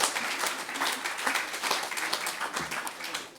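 Audience applause at an association president's speech: a steady wash of many hands clapping at moderate distance, fairly soft and continuous throughout without pause.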